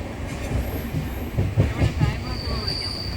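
A train rolls along the tracks with a steady rumble and a few rhythmic clacks of wheels over rail joints, heard from inside a carriage, in Kerala near Sasthamkotta station.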